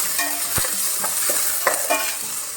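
Tomato and onion sauteing in a pan for a Goan prawn pulao, an even hiss of frying broken by several sharp spoon scrapes and stirring clatters, close and loud with no voices.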